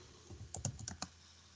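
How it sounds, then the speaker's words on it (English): Quick bursts of typing on a computer keyboard, several crisp clicks clustered in under a second, close and fairly quiet against a soft room hum. "Quit typing, Ty."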